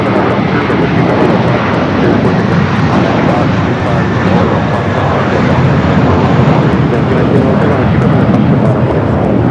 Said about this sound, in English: the Air Tahiti Nui pulling into the gates